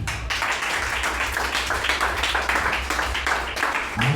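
A congregation applauding in church: steady, dense clapping from many hands, loud and continuous throughout with a rhythmic pulse, mixed with a low background murmur.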